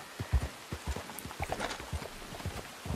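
Horse hooves clip-clopping at a steady riding pace in Red Dead Redemption 2, close and moderately loud, a quick even rhythm of soft thuds with no talk over it.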